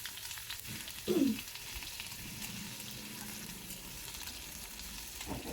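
Faint, steady sizzling of paste frying in oil, with a brief louder scrape of stirring near the start.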